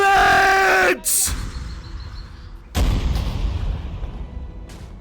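Ship cannons in a VRChat pirate battle fire a broadside: a loud, sharp blast follows a brief shouted line, then a second heavy boom rumbles on with noisy, rolling crowd-like clamor and shouting in the background.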